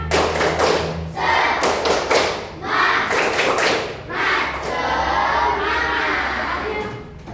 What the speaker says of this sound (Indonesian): Tepuk semangat lagi, biar lebih semangat.